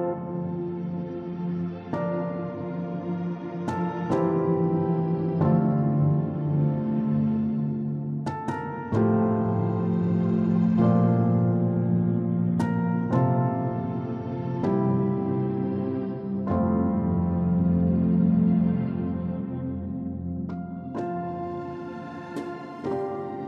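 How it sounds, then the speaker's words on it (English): Water piano sample instrument from a wood and water strings and nature library, playing soft sustained chords and single notes with an airy, watery shimmer, steady and moderately loud throughout with no talking. "So this is the water piano. It sounds a bit like this."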